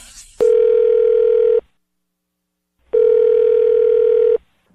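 A telephone tone sounds in two loud steady beeps, each over a second long and separated by a gap of silence, at the start of a radio phone tap call, with no talk.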